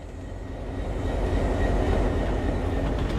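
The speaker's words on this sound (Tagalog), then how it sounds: "Ayun na yung tren." Train passing in a night shift simulator game, a steady loud rumbling roar with rattling rail noise that swells and holds throughout, close by and with no voices.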